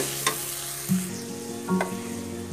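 Ginger and garlic sizzle in hot oil in a pan, then a few bursts of louder hissing as a small amount of water is added, close and clear with no talking.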